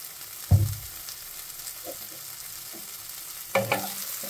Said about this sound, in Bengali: এটা এবার আস্তে আস্তে ভেজে নিতে হবে।